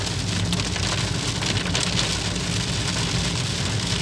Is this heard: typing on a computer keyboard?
no